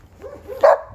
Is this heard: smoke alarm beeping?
no